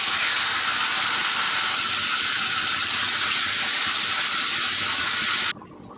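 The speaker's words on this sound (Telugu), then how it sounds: "చికెన్ను బాగా రోస్టెడ్గా మనము కలుపుకుంటూనే ఫ్రై చేసుకోవాలండి" Marinated chicken frying in butter in a pan, a steady loud hiss and sizzle with crackle close up that cuts off abruptly near the end.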